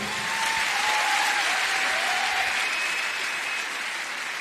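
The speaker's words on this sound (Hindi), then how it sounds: "प्लीज जोरदार ताली" Steady, sustained applause from an audience at a business gathering honoring a family member, broad and even throughout with a faint crowd murmur and no clear speech.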